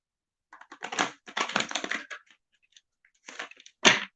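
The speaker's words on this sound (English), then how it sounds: "That was a terrible shuffle." Tarot cards being shuffled close by, crisp bursts of riffling and flicking that come in uneven clusters separated by short silences.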